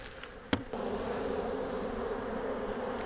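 Honey bees hum around a hive at sunset in a steady, close drone that holds throughout, broken only by one brief sharp knock early on.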